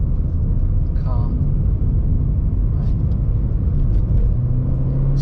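A Ford Fiesta engine rumbles as the car pulls through the gears on an open road, a steady low growl heard from inside the cabin while someone talks over it.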